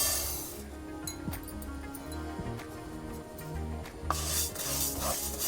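Moong dal dry-roasting in a pan, stirred with a utensil that scrapes and clinks against the metal in irregular strokes under a steady low hum, with a sharper clink near the end.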